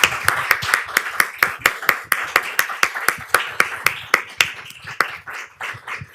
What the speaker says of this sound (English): Big round of applause, please, for Daniel and Tana.